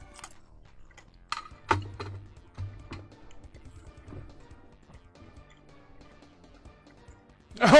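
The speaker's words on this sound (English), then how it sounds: "I didn't want to be rude and eat during the stream because it would just sound like this." Close-up eating sounds, scattered crunches and mouth noises with soft clicks, ending in a loud burst right against the microphone.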